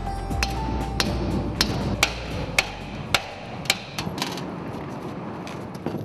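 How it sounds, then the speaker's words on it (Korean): Hammer blows strike a bowl holding a solidified metal lump left from a gold smelt. About a dozen sharp, ringing knocks come at a fairly steady rhythm over a low background rumble. "그릇 안에 덩어리를 빼내기 위해 망치질을 한다."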